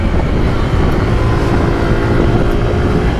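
An RTR motorcycle engine drones loud and constant while riding, mixed with heavy wind rush over the microphone, no voices.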